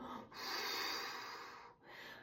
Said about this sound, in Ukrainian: Диханням носиком вдих, ротиком видих.